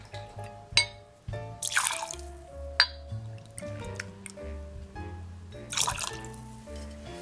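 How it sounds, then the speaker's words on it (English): Gin being poured for a gin fizz, with glassy clinks and a soft liquid trickle over a steady tonal background, several small chinks spaced through the pour. "Now we're going to add our 2 ounces of gin."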